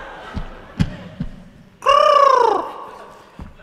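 A performer on an open-stage comedy show gives a vocal imitation of a pigeon: one loud, drawn-out warbling coo lasting under a second, set between a few faint knocks and room noise.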